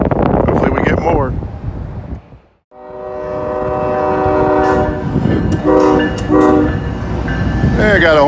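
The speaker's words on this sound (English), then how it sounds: "I got a horn salute." A freight train on the old B&O line gives a loud, close horn salute, a sustained chord that swells and pulses for several seconds after a brief stretch of speech and rumble on a windy day.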